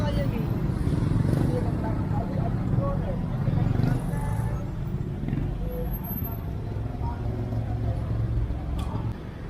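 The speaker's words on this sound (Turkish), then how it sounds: "Abi trafik kaos bildiğiniz gibi." Busy street traffic in Bangkok's Chinatown rumbles continuously, with engines of cars and motorbikes passing close by, while someone talks over the noise.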